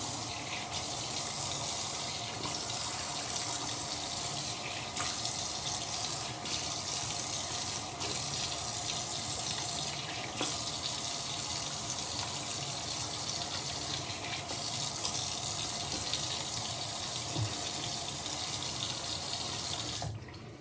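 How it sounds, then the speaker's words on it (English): Cold water runs from a tap into a sink in a steady, close, continuous gush, with faint splashes and small interruptions as hands scoop water, and no talking. "I'll put some cold water on my face"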